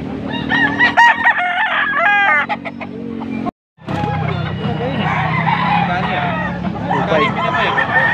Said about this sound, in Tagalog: ito yung mga manok na idol